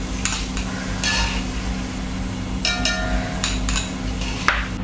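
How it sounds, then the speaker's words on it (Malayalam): Peanuts roasting in a pan over low flame while making spicy Kerala mixture, with steady scraping and stirring and a faint sizzle, plus a few sharp clinks of a utensil against the pan. "നമുക്ക് ഈ കപ്പലണ്ടി അങ്ങ് വറുത്ത് പോരാം."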